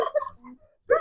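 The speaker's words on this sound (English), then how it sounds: "He's a good dog." A farm dog gives a couple of short, close barks and yips in a yard, a quick burst, a pause, then another bark.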